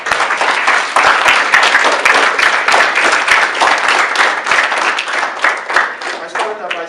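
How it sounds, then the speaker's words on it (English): Sustained applause from a community event audience at a motivation day in Waltham Abbey, dense steady clapping filling the room for several seconds and tapering slightly at the end, with some voices mixed in. "We have a round of applause for all the people who got"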